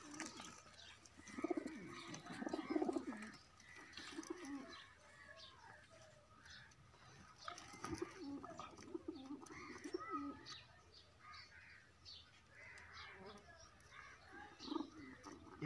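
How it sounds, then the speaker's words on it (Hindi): Racing pigeons, a prized hen bird, cooing in a loft in soft repeated low coos, with faint chirps and background noise running throughout. "यह कबूतरी बहुत ही अच्छी कबूतरी है जी,"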